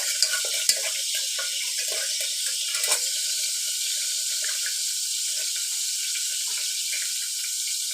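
Whole spices and curry leaves stirred in hot oil in a pressure cooker for Kerala-style kadala curry, a steady hissing sizzle with a few faint scrapes and knocks near the start.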